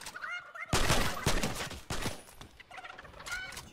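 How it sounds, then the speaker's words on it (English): Gobbling fowl calls from a chicken in the Fortnite video game, several squawks rising over loud game sounds and bursts of gunfire-like noise, close and fairly busy. "Grab chicken. Ew, chicken."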